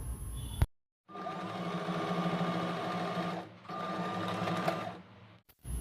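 A sewing machine stitches palazzo pant belt pieces in two steady, rapid whirring bursts separated by a brief pause, close and clear with no talking.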